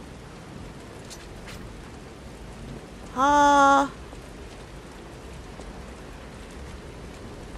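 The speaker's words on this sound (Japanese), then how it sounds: "雨の夜、クラット中央駅広場。" Steady rain falls at night on a plaza outside Krat Central Station in the game Lies of P. The hiss is continuous and even, and a short voiced sigh cuts in briefly midway.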